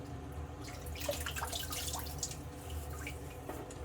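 Tepid tap water runs quietly and steadily into a bathroom sink, with faint splashing and dripping throughout and no voices.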